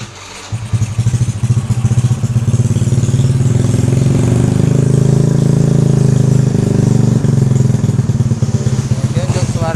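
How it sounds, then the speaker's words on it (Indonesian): A Honda C70 motorcycle fitted with a racing CDI starts and settles into a steady, loud, close idle, chugging evenly with a slight rhythmic pulse throughout. "Oke, motornya udah nyala teman-teman."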